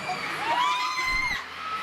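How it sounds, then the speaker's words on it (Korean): A standing audience of younger fellow performers cheers and applauds a group at the Seoul Music Awards, with crowd whoops and shouts swelling loudly throughout. "오늘 많은 후배분들이 모두 일어나서 박수를 많이 쳐주고 계십니다"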